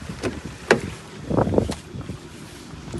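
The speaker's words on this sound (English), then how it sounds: "it's quite windy. I'm sure it's quite hard to hear me" Gusty wind blows outdoors beside a BMW 2 Series Gran Tourer, rumbling and buffeting the microphone in uneven surges, with a sharp knock near the start and no one talking.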